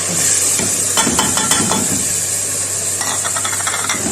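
Tomato puree for Pindi chole frying in a pan, a steady close sizzle and hiss with several scraping stir strokes from a spatula, no talking.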